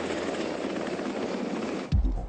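A Black Hawk military helicopter drones steadily with a dense, close rotor and engine roar, broken near the end by a short low thump.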